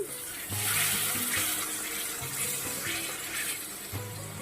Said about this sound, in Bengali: আমি তো একটু জল দিয়ে দিলাম